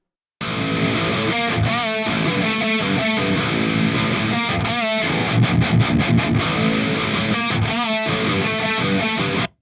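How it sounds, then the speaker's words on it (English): Thick, heavily distorted electric guitars, dual-tracked and hard panned left and right, chug through a riff together, loud and wide, with brief rhythmic stops and palm-muted bursts. "So over here, I have my dual track guitars."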